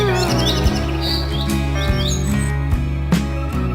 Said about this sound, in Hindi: टूनी चिड़िया बार बार क्यों उस बैगन के पेड़ पर भला क्यों जा रही है?